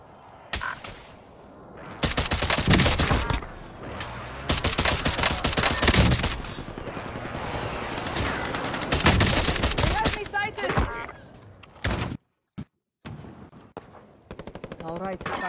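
Heavy automatic gunfire from a video game shooter battle, long loud bursts of rapid shots with short pauses and a sudden silence near the end, and voices now and then between the volleys.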